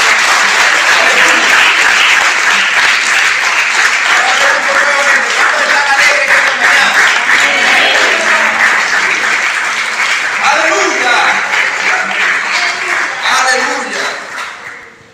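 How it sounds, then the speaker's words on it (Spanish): Loud, sustained applause from a congregation at a Shabbat Torah-study service, with dense steady clapping for about thirteen seconds before it tapers off at the end. "Den un fuerte aplauso a Dios."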